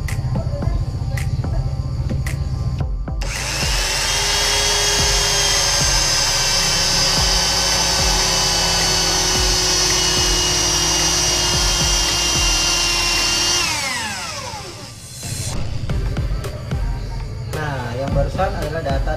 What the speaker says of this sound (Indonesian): sekarang saya akan bor media yang sama dengan tools-tools sebelumnya.